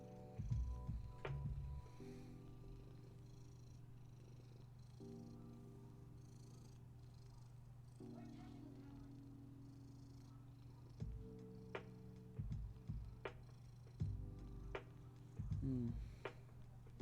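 A cat purrs steadily and softly close by for a long stretch, with light taps and handling sounds now and then and no talking.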